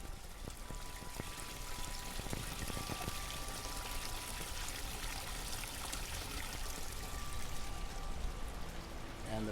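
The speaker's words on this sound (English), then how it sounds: "We got a water feature right underneath it. As you can see, that you can still hear the water feature." A backyard water feature trickles and splashes steadily beneath a misting fan running on its low setting, the flowing water a constant moderate wash with occasional faint clicks, no one speaking.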